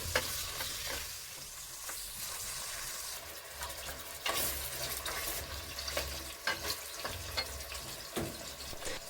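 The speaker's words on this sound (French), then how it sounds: "ne faites pas trop dorer la viande" Meat browning with onions in a pot, a steady sizzle and crackle with scrapes and clinks of stirring, close and fairly quiet, no talk.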